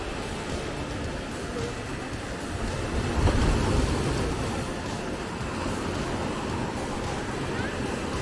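Sea waves wash in at Rushikonda Beach in Vizag, a shore of gravel and rocks, giving a broad rushing roar that swells in the middle and is mixed with wind buffeting the microphone.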